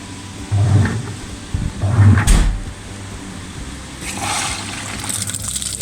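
Water rushing into a repaired washing machine as it starts filling during a test, a close gurgling flow with a couple of louder clunks early on, then a softer steady trickle and splashing.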